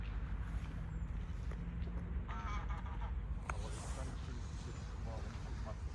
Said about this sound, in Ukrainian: Все в гусках.